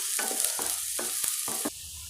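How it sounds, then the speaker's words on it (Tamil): Onions sautéing in oil with mustard seeds crackle under a spatula, which scrapes in four or five distinct strokes about half a second apart over a continuous close sizzle. "வெங்காயத்தை நல்லா வதக்கிக்கோங்க"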